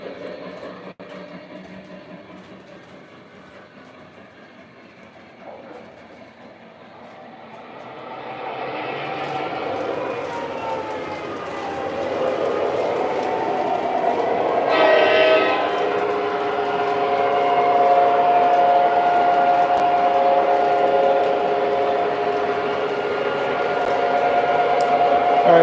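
MTH Q2 and Lionel model trains running on a layout, a steady rolling rumble that builds and grows louder midway, with a sustained tone joining later, no talking.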